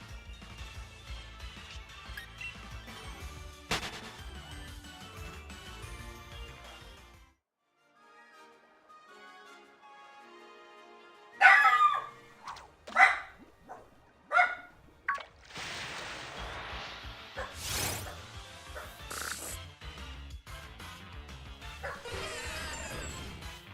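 A puppy barks and whimpers in sharp bursts, starting with scattered yaps, going quiet for a moment, then returning with louder, clustered barks and whines.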